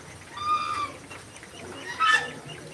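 Hens cluck in two short bursts in a rainy backyard among ducks and pigeons, each call rising clearly above a soft, steady background.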